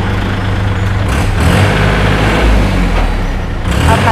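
Engine of a Kubota L4018SP tractor idling steadily nearby, a loud continuous low diesel rumble with slight fluctuations and no speech.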